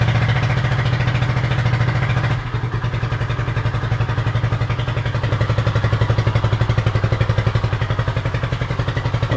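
A Honda CB250RS motorcycle engine idles steadily at around 1400 rpm after a cold start on choke, a close, even, rapid thumping pulse that dips briefly in level before settling into a constant rhythm.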